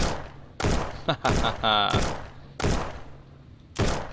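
Sentry turret machine-gun fire in the Starbound video game: sharp, loud bursts of shots in separate volleys with short gaps between them, plus a brief rising tonal effect in the middle.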